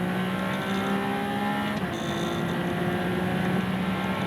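A Ferrari 296 Challenge race car engine drones on track, a sustained high-revving tone with a brief shift in pitch midway, heard continuously without talk.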